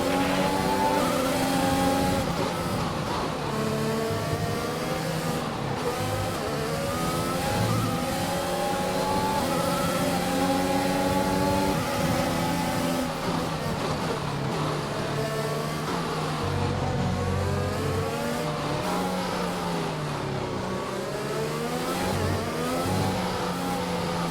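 A Formula 1 race car engine in the video game F1 2021, a loud continuous high-pitched whine that rises and falls through gear changes with no break.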